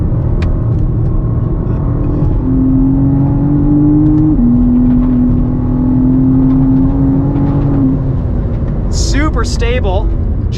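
A 2023 BMW M4 CSL on a race track, its engine droning loud and steady with a rising pitch, then holding against the rev limiter; road roar fills the background and people talk briefly near the end.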